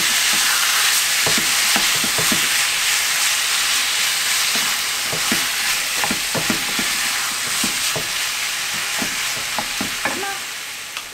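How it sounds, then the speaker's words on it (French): Gyros meat frying in a pan, a steady loud sizzle broken by repeated scraping stirs of a utensil, close and without talk. "je vais mettre du coup le gyros à l'intérieur et je vais le faire cuire pour 5-10 minutes en mélangeant régulièrement"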